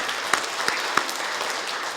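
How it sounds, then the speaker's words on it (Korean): A church congregation applauds to welcome a newly registered member, a soft, continuous patter of many hands at moderate distance, with a few sharper individual claps standing out. "환영하는 박수 한번 쳐주시면 좋겠습니다"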